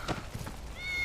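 A cat meowing inside the video game Final Fantasy 7 Remake: a short, faint mew over soft game ambience, followed by a rising tonal chime.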